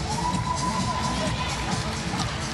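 Crowd cheering at a women's 49 kg taekwondo semi-final, a dense, steady roar of many voices with shouts and whoops, with a commentator talking over it.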